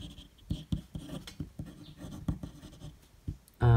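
Fountain pen with a medium nib writing on paper, faint close scratchy strokes in an irregular rhythm of short taps and drags, with no talk, and a brief louder knock at the very end.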